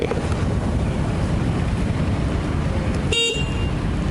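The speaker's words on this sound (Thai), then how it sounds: "อ๋อเป็นแตร" A short, high electronic beep-like horn toot from a 2020 AJ EV Bike C-Lion (Yadea C-Lion) electric scooter sounds once near the end, over steady wind and road rumble from the moving ride.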